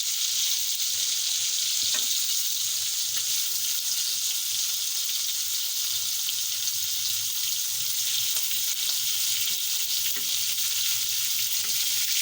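Fish sizzles in hot oil in a pan, a loud, even hiss and crackle of frying that carries on unbroken and close by throughout.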